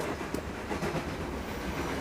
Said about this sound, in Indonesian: Bentar, kereta.